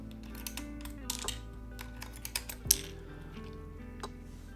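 Keystrokes clack on a mechanical keyboard in quiet, irregular bursts and single taps close to the mic, with no talking.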